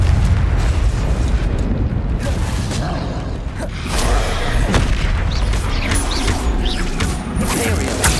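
Confringo fire-spell blasts in Hogwarts Legacy boom repeatedly amid dense, loud combat noise, with sharp bursts landing every second or two over a constant rumbling bed.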